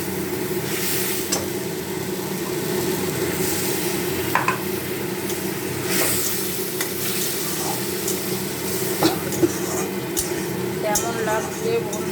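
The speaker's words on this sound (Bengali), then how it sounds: "মশলাটা যাতে ঢোকে, এই জন্য একটু কষিয়ে নেব" Spice paste for Bengali egg curry sautéing in a pan, a steady sizzle with occasional stirring scrapes running continuously throughout at moderate loudness.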